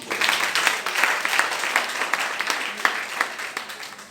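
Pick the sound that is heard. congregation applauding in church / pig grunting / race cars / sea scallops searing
congregation applauding in church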